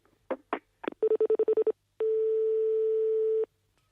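A telephone number is dialed in a few quick tones, then a fast regular run of beeps, followed by a single long steady tone. All of it is clear and close, with no one speaking.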